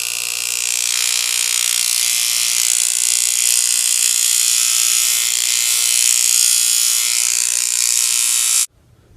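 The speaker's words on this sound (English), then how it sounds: "we're going to go on a grinder and grind it down" Grinder steadily grinding down a wooden filler piece for a model ship, set to a 29.5 degree angle, giving a loud, continuous high-pitched whine that runs unbroken for about nine seconds before cutting off abruptly.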